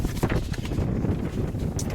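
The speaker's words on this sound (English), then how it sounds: "pretty windy" Gusty wind buffets the microphone on a Polaris Ranger EV with a steady, rumbling roar throughout, moderately loud and close.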